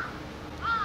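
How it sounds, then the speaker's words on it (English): Crows caw nearby in Japan, two short harsh calls, one at the start and a louder one near the end, over quiet outdoor background. "The crows are moving in, man."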